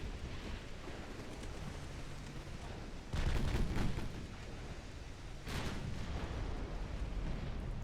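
Heavy US battleship main guns firing in a naval video game, heard as a loud booming blast near three seconds and another near five and a half, each with a long rumbling tail over a steady background roar.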